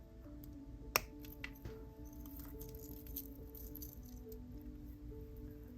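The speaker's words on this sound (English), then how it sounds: "Let me cut off the excess." One crisp snip cuts the excess ribbon strand off a dragonfly fairy necklace. The cut is faint and close, followed by soft handling rustles in a quiet room.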